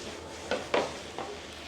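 Pad thai being stir-fried in a pan: a steady low sizzle with three brief scraping stirs of a spatula, close and fairly quiet, with no voices.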